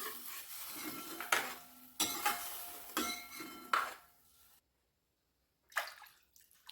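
Milk is stirred into vermicelli kheer in a pot, with a few rhythmic clattering scrapes of a spoon and liquid sloshes, then a brief silent pause before one more clink and swirl; no voices.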